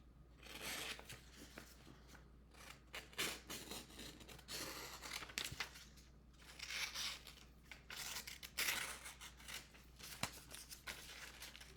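Scissors cutting moonbeam paper for a craft page, with close, repeated snipping and crisp paper rustles in uneven bursts and no talking.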